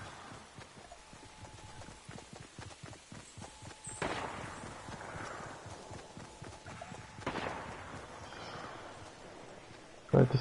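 Horse hooves clip-clop in the video game Fortnite, a quick run of light rhythmic steps mixed with game effects and occasional louder thuds, with no talk over it.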